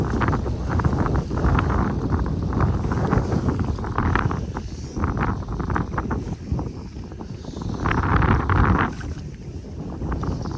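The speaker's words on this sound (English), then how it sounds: "That wind is quite brutal." Strong wind at a reservoir during ice-off fly fishing, loud steady buffeting roar against the microphone with gusting surges throughout.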